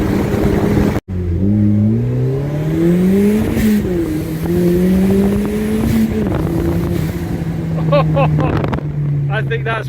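Modified MGB GT with a 280 bhp engine driving fast, its exhaust droning and rising loud and close as the revs climb and fall through gear changes, with a brief cut near the start and a person talking over it.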